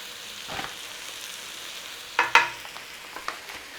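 Mushrooms dusted with flour fry in a pan with a quiet, low sizzle, punctuated by a few brief scraping stirs.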